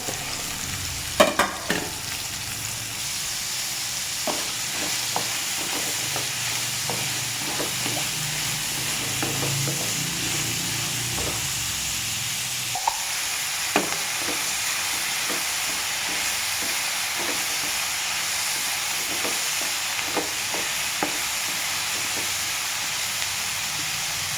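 Small shallots frying in about a spoon and a half of coconut oil, a steady close sizzle and hiss running throughout with scattered clicks of stirring, all without any talking.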